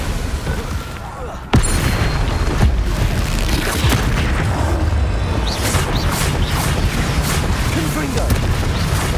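Confringo explosive spell blasts in Hogwarts Legacy, a heavy boom kicking off dense, continuous game combat noise with rumbling impacts and crackles throughout.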